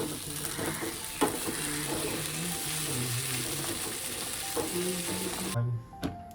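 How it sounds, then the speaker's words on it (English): Aloo bhindi, potato and okra, frying in a pan with a loud, steady sizzle and some stirring clatter, close up, then cutting off abruptly near the end with a couple of faint knocks. "Aloo Bhindi fry."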